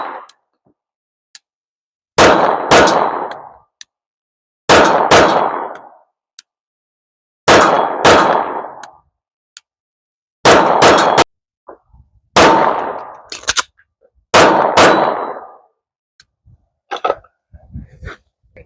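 Sharp handgun shots from a SIG M17/P320-type pistol on a polymer frame ring out in quick pairs and strings at an outdoor range, each blast followed by reverberation, with spaced pauses between volleys.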